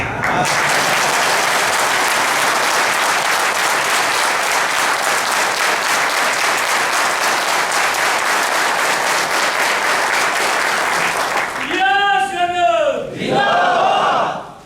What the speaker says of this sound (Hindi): अपने आपने तालियां बजा के मेरा काम आसान कर दिया है।